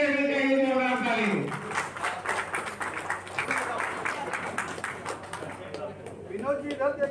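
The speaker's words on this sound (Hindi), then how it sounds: "ताली बजते रहनी चाहिए जोरदार ताली।" A crowd claps at a political gathering to welcome a former JDU leader joining Congress, with loud, dense applause swelling in the middle after a voice and tapering as he speaks again.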